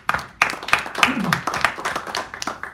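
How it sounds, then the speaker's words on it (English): A small audience gives a short, sparse round of applause, individual claps distinct and uneven, with a voice talking over it. "Give you guys a round of applause"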